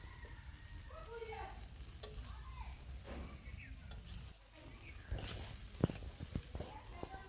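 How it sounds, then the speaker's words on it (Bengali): Noodles tossed with cabbage in a hot pan, a soft sizzle under repeated scraping and stirring strokes of a spatula, with a few sharper clacks near the end, faint and close. "নুডলসটা দিয়ে ভালোভাবে মিশিয়ে নিচ্ছি।"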